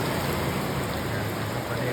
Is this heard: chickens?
no